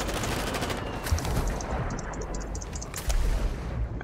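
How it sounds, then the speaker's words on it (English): Rapid bursts of gunfire in Call of Duty Warzone on the Vondel map, dense and continuous with louder cracks near the one- and three-second marks. "someone's shooting at us"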